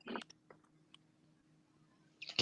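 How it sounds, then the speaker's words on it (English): Computer keyboard keys clicking at a desk, a few quiet scattered clicks with a louder burst at the start and end over a low steady hum. "I hear the keyboard clicking now on my computer"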